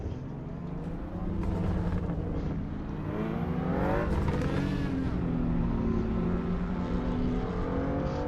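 A BMW M2 race car in the Assetto Corsa EVO racing game, engine droning and rising steadily with a blow-off valve hiss, loud and continuous throughout.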